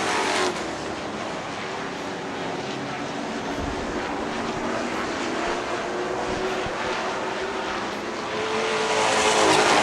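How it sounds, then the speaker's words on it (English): A late model race car engine refires after a spin and pulls away on a short oval track, a continuous loud engine drone under crowd and circuit noise that swells toward the end. "Oh, he's able to get it fired up and back underway."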